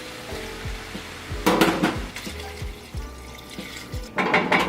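Chickpeas tipped into a pot of celery root soup with softened vegetables, a splashy pour and clatter in two bursts over a low repeating kitchen thump.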